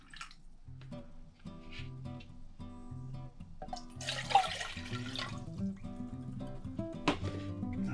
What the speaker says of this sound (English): now we'll add a cup of water